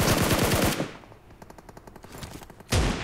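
PUBG Mobile gunfire: a fast burst of automatic shots rattles out, followed by lighter rapid clicks, then another loud blast.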